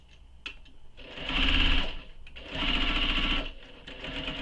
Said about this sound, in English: we're going to sew the bottom here, but we're going to leave an opening for turning it out